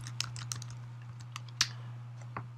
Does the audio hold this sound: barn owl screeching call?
no